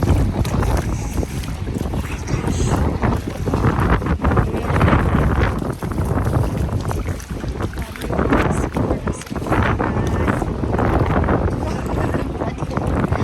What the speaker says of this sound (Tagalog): Malakas pa yung hangin.